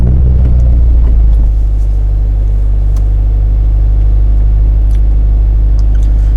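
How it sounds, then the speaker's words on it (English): A car engine catches and settles into a loud, steady low idle that rumbles on without a break. "So let's start the car."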